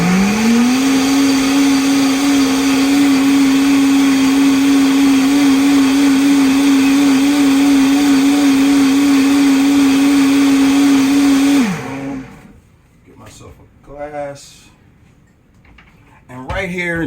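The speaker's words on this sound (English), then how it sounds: "With this blender, we start off slow to get it working." A blender with water and fruit inside starts on a slow setting, giving a loud, steady whine with a sharp rise in pitch as it starts. It then cuts out, and a person talks afterward.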